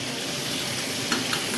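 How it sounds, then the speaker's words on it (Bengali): Pieces of pointed gourd fry in hot oil in a home kitchen, giving a constant close sizzle with faint scraping and a few small clicks, and no talking. "এদিকে পটল ভাজা হচ্ছে"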